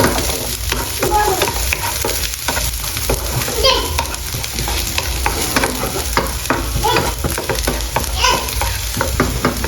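Garlic frying in a little oil in a pan, a loud close crackling sizzle with frequent sharp pops and stirring scrapes, running continuously.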